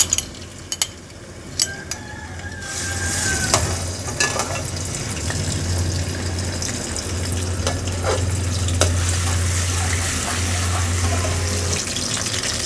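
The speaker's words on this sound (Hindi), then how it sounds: "तो इसमें लहसुन अदरक का पेस्ट डाल देंगे।" Garlic ginger paste frying in hot oil or ghee, a steady close sizzle with scattered clinks and stirring scrapes in the first few seconds and a low hum underneath.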